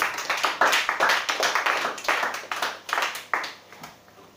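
A church congregation claps and applauds together during a worship service, a dense, close burst of many hands with uneven rhythm that thins out toward the end.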